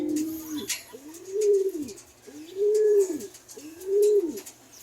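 Breeder racing pigeons coo in a loft, three slow rising-and-falling coos repeating at an even rhythm, close and clear over faint background rustle.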